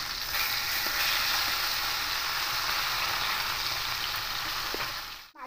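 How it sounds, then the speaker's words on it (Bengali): Pieces of silver carp fish frying in hot oil in a wok, a loud, steady, close crackling sizzle that holds for several seconds before a brief clatter at the end, with no talking. "খুব ভালো করে মাছগুলো কড়া করে ভাজতে হবে।"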